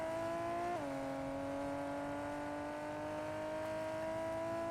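A car in Fortnite runs with a steady engine tone that drops in pitch after a brief moment, then holds a smooth, even hum at moderate level with no talking.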